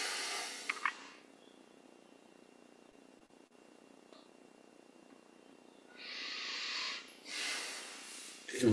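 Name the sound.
guided breathing exhale during yoga meditation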